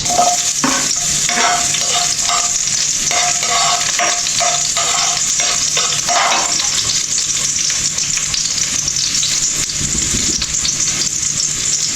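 Onion and garlic sauté in a pan for pork adobo, a steady close sizzle running throughout with scattered scraping and stirring clicks from a utensil, no voices.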